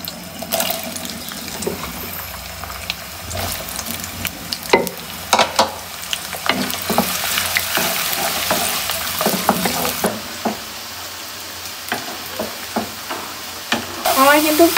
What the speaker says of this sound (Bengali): এখন পেঁয়াজগুলো দিয়ে দেব।